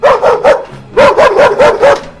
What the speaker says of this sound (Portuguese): Foi quando a Pete veio correndo, latindo forte pro monstro.